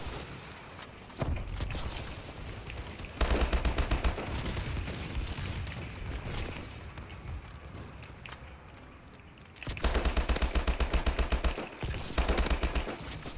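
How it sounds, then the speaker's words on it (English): Heavy sustained gunfire and explosive bursts during a friendly bombing run in a Call of Duty Advanced Warfare team deathmatch, loud and continuous with dense rapid volleys that swell in several bursts. "Friendly bombing run incoming."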